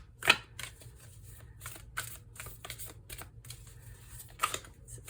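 A deck of tarot cards is shuffled by hand in a quiet room, with irregular papery riffles and sharp clicks of cards tapping together, close and fairly soft.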